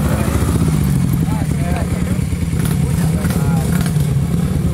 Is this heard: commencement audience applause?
no